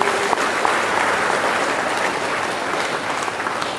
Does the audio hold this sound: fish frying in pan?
no